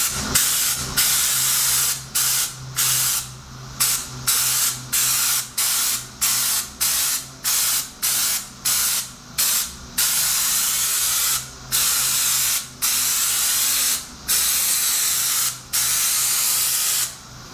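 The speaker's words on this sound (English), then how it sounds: "Alright, first spray." A spray gun applying bedliner coating to a Jeep hisses in a long series of loud, steady bursts, each a second or so, separated by brief pauses, with a faint hum underneath.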